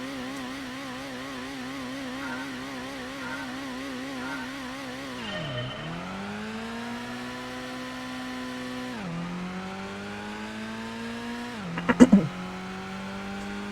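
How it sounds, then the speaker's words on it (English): TVR Griffith sports car engine in Gran Turismo, droning steadily with harmonic pitch that climbs through the gears, dropping sharply at each shift near 5.5, 9 and 12 seconds, with a brief loud knock near the end. "as you're taking the TVR Griffith around this wacky track"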